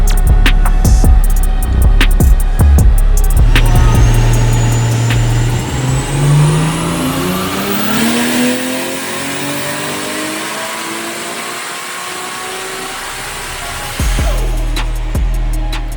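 Nissan R32 on a dyno running E85 fuel, the engine revving hard with a rising pitch through a long wide-open pull, then easing off and settling back to idle, loud and close.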